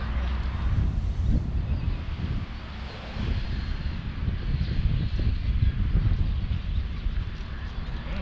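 Strong wind buffets the microphone at a fishing pond, producing a constant low roaring rumble that stays loud and steady throughout.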